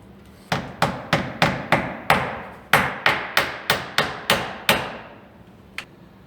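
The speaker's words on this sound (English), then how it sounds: "I just drive them in tight enough that the nail head is just barely touching the metal." Nails are driven into vinyl siding with a hammer: about a dozen sharp, ringing blows in a steady rhythm, close and loud, with one faint tap after a pause.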